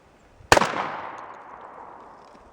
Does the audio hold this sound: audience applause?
no